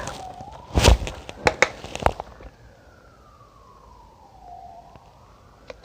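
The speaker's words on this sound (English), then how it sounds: "Sorry if you could hear police cars or ambulances in the background" A police car or ambulance siren wails in the distance, its pitch sliding slowly up and down, after a few sharp knocks and clatters close by.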